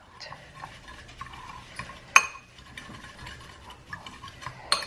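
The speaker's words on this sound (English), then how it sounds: "All right, so mix this up." A spoon stirs a dry homemade keto seasoning mix with black pepper in a small container, giving soft scraping and occasional light clinks against the sides, close and fairly quiet.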